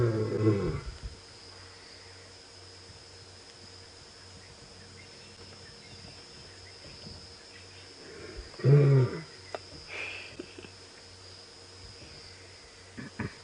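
Lions on an evening safari drive give soft, low contact calls, two brief grunting moans a few seconds apart, over steady cricket and insect chirring outdoors.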